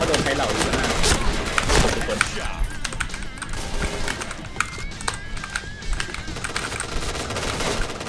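Rapid automatic gunfire from a machine gun in the online shooter Point Blank, dense bursts running almost continuously at close range, with game effects layered in.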